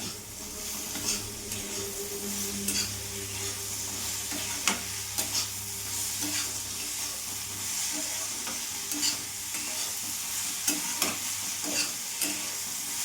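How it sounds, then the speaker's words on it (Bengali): Okra and potato curry fries in a pan while being stirred, giving a continuous close sizzle with repeated scraping and knocking of the spoon against the pan. "কিছুক্ষণ নাড়াচাড়া করে ভাজা ভাজা করে নিন"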